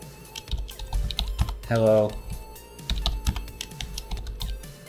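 Rapid keyboard typing clatters close by in quick irregular bursts, while a voice briefly speaks over it.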